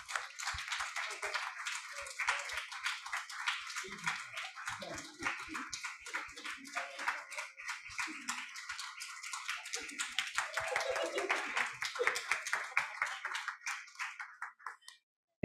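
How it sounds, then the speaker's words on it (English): Closing applause from a small audience at a literary reading night, a steady patter of hand claps with some voices mixed in, building slightly before stopping abruptly. "one last round of applause for them to take a bow"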